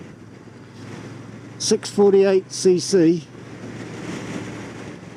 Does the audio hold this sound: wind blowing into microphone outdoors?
yes